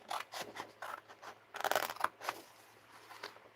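Scissors snip through paper scraps in a quiet room. A run of short, crisp cuts comes close up, with one busier cluster in the middle.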